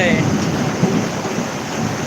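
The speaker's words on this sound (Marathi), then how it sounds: "बघा ना कसला पाऊस आहे तो" A sudden heavy downpour during a thunderstorm in Titwala, with a dense, continuous roar of rain and low rumbling throughout, steady and loud from start to finish.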